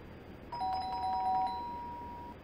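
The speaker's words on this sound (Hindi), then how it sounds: "नींद आने ही वाली थी कि कॉल बेल बजी।" A doorbell rings once indoors, a clear electronic two-tone chime sustaining and fading over a low background hum, with no voices.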